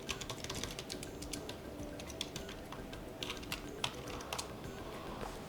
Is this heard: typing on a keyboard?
yes